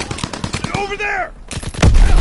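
World War II gunfire in Call of Duty WW2: a rapid string of loud, close shots, then a brief lull filled by a shouted voice, ending in a dense heavy burst of firing.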